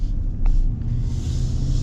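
A Ram 1500 pickup truck with a 5.7 Hemi V8 rolls along on the road, its engine a steady low rumble with road noise and faint hiss throughout.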